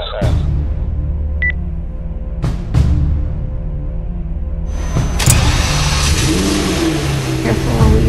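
A Lamborghini engine revs in a video game trailer, a steady mid-pitched drone with rising swells, under music and a brief electronic beep.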